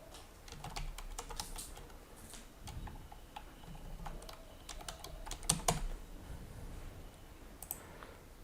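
Typing on a computer keyboard, a steady stream of soft quick key clicks with uneven rhythm, close but quiet, continuing for several seconds over faint background hiss.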